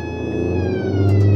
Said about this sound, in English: Horn, lights, siren.